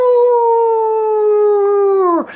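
A person's voice imitates a long, steady howl, holding one sustained pitch before sliding down abruptly at the end.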